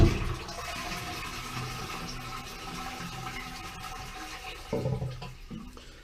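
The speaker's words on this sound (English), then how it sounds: "we want to flush the toilet" A household toilet is flushed with its water supply shut off, the cistern emptying in a steady loud rush of water that gurgles on for several seconds and ends with a short swell of draining.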